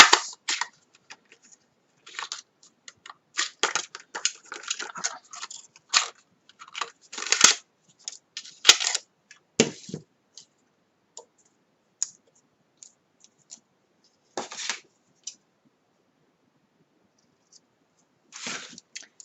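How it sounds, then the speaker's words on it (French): A handheld paper label punch cutting a label from a paper offcut, heard as sparse sharp clicks and crunches scattered through quiet stretches, close and fairly soft, with no talking. "je vais prendre ma perfo étiquette"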